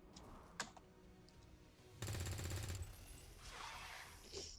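Gunfire at a Viper in XCOM 2 with ballistic weapons, a rapid burst of repeated shots that is loud and dense for under a second, set among a few sharp clicks and lighter game sounds.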